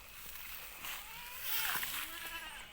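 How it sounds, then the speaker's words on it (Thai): Young female goat bleating on a farm, a few wavering cries at moderate distance over a hissy background, with faint sounds of people nearby. "แพะสาว"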